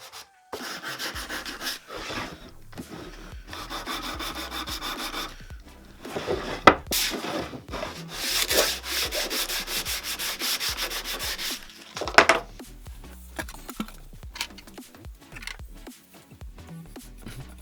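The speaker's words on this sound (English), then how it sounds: "I took some sandpaper and smoothed out the rough edges" Sandpaper rubs back and forth over the rough edges of a wooden photo print frame in steady, close strokes, with a few louder bumps and pauses between passes.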